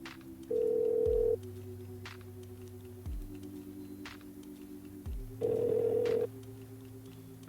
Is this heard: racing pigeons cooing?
no